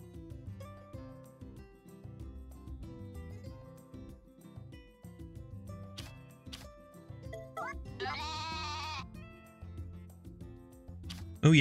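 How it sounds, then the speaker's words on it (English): Goat bleating in the farming video game Story of Seasons: A Wonderful Life, a wavering bleat standing out near the end of a stretch of light, steady game music with soft chimes. "Oh yeah, you're doing great, little goat."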